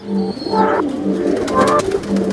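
Racing pigeons coo close by inside a loft with a stand for about seventy birds, giving soft throaty rolling calls that overlap continuously.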